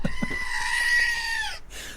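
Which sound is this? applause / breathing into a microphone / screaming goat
screaming goat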